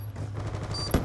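Gunfire from the Peacekeeper in Black Ops 2 during a Demolition match, a steady low rumble of rapid shots with a sharper burst near the end, no talking.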